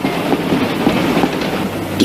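A train rolls steadily along the rails in a 1968 German radio-play sound effect for a Scottish express, with continuous rumbling and faint rhythmic clicking of the wheels, loud and close, with no voices.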